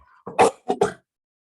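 A brief throat clearing followed by a couple of quick, close coughs, then silence.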